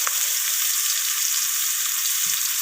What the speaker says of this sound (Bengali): তো পেঁয়াজগুলো আমি লালচে করে ভেজে নিচ্ছি।